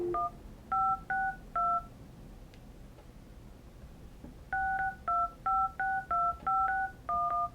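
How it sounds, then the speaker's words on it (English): Two bursts of crisp dual-tone keypad beeps on a Grandstream GXV3275 Android desk phone, a few presses, a pause, then a quicker run of about eight tones, clear and close. "We can make a sample phone call here."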